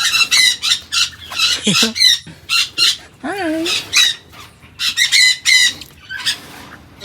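A white call duck gives loud, repeated raspy quacks in quick bursts, close by, with chickens clucking around it and a person briefly speaking.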